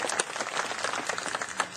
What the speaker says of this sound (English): Let's give her a big round of applause and send her home, hey?